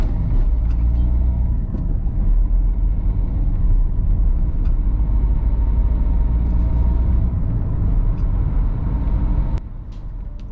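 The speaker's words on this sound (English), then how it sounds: "So let's go for a drive around those residential areas first," A car rolls through the residential streets of Clenchwarton, a steady low engine and road rumble heard from inside, continuous for most of the stretch before dropping off quieter near the end.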